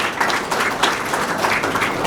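Graduation attendees at a youth business program ceremony applaud the students, a brief, steady patter of many hands clapping in a hall.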